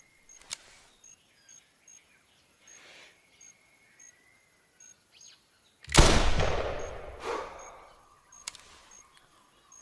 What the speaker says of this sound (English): I'm going to shoot her with the rifle